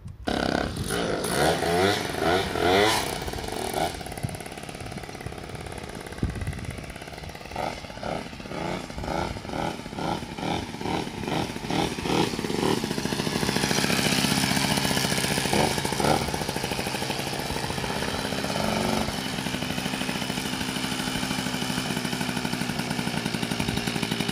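A custom Motobécane 40V moped with a 70cc engine, carburetor freshly refilled, sputters through several start attempts, then catches and runs with a buzzy two-stroke rattle that revs and settles into a steady idle, close to the microphone.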